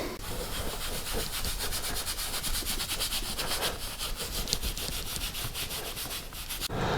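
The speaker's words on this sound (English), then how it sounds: "take some steel wool and clean that whole top surface again with some aluminum cleaner" Steel wool scrubs across the top surface of an aluminum engine block from a 1983 BMW R80ST, using aluminum cleaner. A steady, close, gritty rasping continues throughout with a fast back-and-forth rhythm and no voices.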